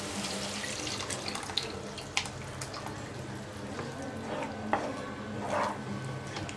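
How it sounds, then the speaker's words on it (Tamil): Strained tamarind water pours into garlic kuzhambu in a pan, a steady liquid splashing and trickling with a few small clinks, fairly soft and close. "புளி வடிகட்டி வச்சுருக்கிறேன் இல்லையா, அதை ஊற்றிக்கலாம்."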